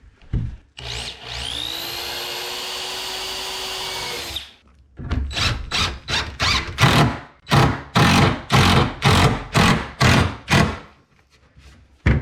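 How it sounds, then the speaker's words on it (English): A power drill whines steadily for a few seconds, then a series of short, rhythmic bursts as the bit pre-drills into a hardwood cabinet rail, close and loud. "So we're going to pre-drill, and I'm going into the rail, not the stile"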